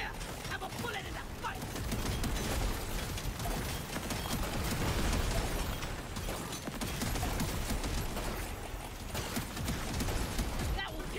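Shotgun blasts from a double-shotgun build in the video game Deep Rock Galactic, dense rapid firing and combat clatter continuing throughout, loud and close, with a voice talking over parts of it.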